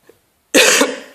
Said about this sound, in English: hope I'm not coughing or sniffing too much